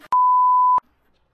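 A single steady electronic beep, a pure high tone lasting under a second, starting and stopping abruptly like a censor bleep.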